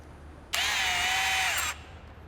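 A small drill bores through a billet aluminium piece with a 1/8 bit, giving one steady, whining burst of just over a second that starts and stops abruptly, close up with no talk.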